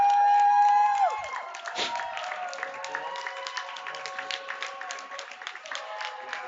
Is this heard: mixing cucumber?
no